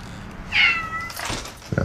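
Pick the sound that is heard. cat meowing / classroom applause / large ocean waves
cat meowing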